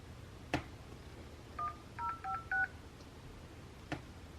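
A run of telephone keypad DTMF tones entering digits into an automated account line, five short tones in quick succession, bracketed by two sharp clicks, with no talk over them.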